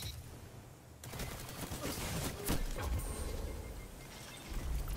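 Rapid gunfire from a Graviton Lance in Destiny 2 crucible PvP on PS4, a dense run of loud game shots and impacts filling the whole stretch with brief pauses.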